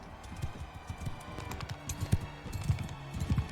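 Hooves of a palfrey horse clip-clop in rapid uneven beats during a Mount & Blade II: Bannerlord battle. The steps sound close and fairly quiet, and there is no talking.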